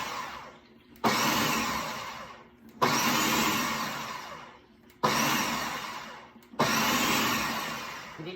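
Food processor pulsing salt into flour for biscuit dough, four loud whirring bursts of about two seconds each, separated by short pauses.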